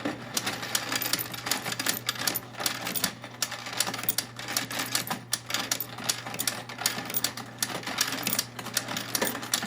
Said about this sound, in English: That clicking noise you hear is actually the anti-jam technology built into the unit.